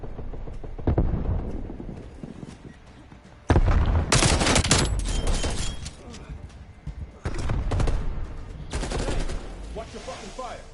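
Gunfire in Call of Duty Black Ops Cold War: repeated loud bursts of automatic fire and single shots in clusters, close and sharp, with players talking over the shooting.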